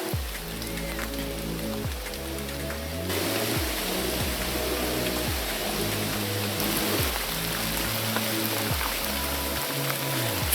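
Heavy rain pours steadily outdoors at a lake, a dense, loud hiss of drops drumming on surfaces throughout, with low tonal hum pulses underneath and a brief swell in intensity partway through.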